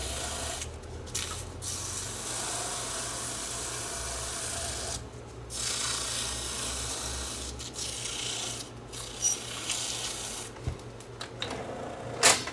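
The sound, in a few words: smoothing down a cracked tape recorder part by rubbing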